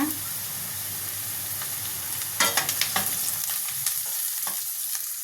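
Sliced onions fry in hot oil with turmeric and curry leaves for a drumstick masala curry, a steady close sizzle broken by several sharp scrapes and clinks of a stirring spoon against the pan.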